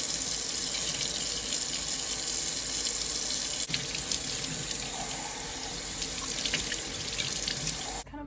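Cups are washed under a running kitchen tap, a steady loud rush of water with faint clinks and splashes throughout, cutting off near the end.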